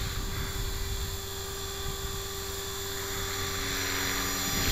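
A radio-controlled LH 450 helicopter hovers in strong wind, giving a steady, loud rotor and motor whine with a constant high tonal hum and rushing wind noise, unbroken throughout with no talking.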